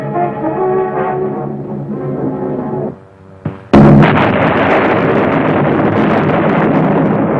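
Wartime bombing raid footage: a low droning roar gives way after a brief lull to a sudden heavy blast, then a sustained loud rumbling wash of explosions and debris.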